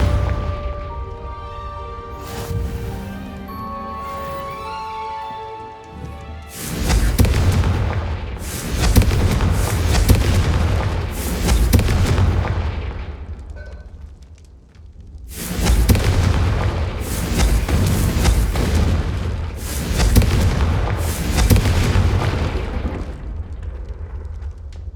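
Blasting Confringo spell explosions in Hogwarts Legacy on PlayStation 5 erupt as loud booming blasts with crackling debris, several big bursts over a game score, a quieter gap between them.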